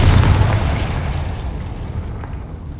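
Confringo explosive spell blast from the Hogwarts Legacy video game: a loud, deep boom at the start that rolls off into a long rumbling decay over a few seconds, heard alone with no voices.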